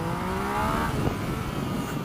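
Yamaha MT-09 motorcycle under way, its steady engine drone rising slightly in pitch then easing, heard close and continuous with wind rush throughout.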